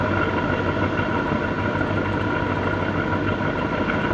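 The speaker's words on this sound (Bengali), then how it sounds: "এদের ইঞ্জিনের কালো ধোয়া মারতেছে অনেক জোরে জাহাজ এগিয়ে নেওয়ার চেষ্টা করতেছে" The engine of the ship MT Alberia runs hard on the Bay of Bengal, a constant loud low drone and rumble with steady vibration throughout and no voices.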